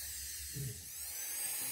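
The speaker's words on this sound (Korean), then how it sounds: "적당히 파주고 두께를 보기 위해 가운데 작은 구멍을 뚫습니다" A small high-speed rotary drill bores a little hole in the centre of a carved wax jewel for a pendant. It gives a thin, steady whine close by that dips briefly midway, with no voices.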